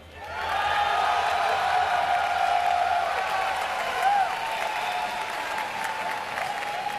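Large live crowd cheering and applauding at the MLG Orlando 2011 StarCraft 2 esports event, a dense, steady roar of clapping and shouting that swells in and holds loud throughout, with a brief whistle-like rise near the middle.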